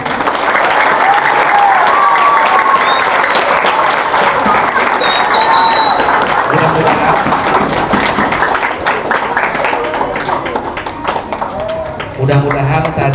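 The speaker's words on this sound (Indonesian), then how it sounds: "beri aplaus untuk semuanya tepuk tangan." A school audience applauds after a police outreach talk, with dense, sustained clapping and crowd noise that tapers slightly toward the end as voices start to come through.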